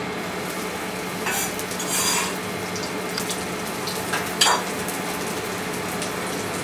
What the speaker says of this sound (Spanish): La sartén bien caliente, no puede faltar un chorrito de aceite de oliva. Y ahora lo que vamos a hacer es saltear estas setas